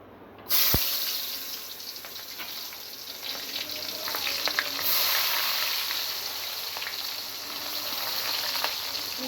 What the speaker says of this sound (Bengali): সব কটা মাছকে আমি পিসকে আমি একবারে ভেজে নিচ্ছি